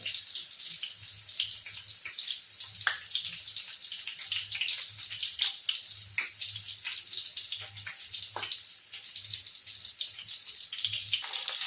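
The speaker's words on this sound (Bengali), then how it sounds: "এক এক করে ভেজে নেবো, ডিপ ফ্রাই করে নেবো ভালো করে।" Pani tikka deep frying in hot oil, a steady bubbling hiss with crackling pops throughout, moderately loud and without talk.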